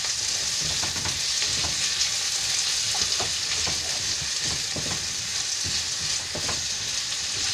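Red onions fry in a hot oiled pan with a steady, bright sizzle, plus occasional soft stirring scrapes, close and continuous.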